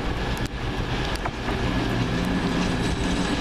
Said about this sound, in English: The 11:49 cross country service from Bristol Temple Meads to Manchester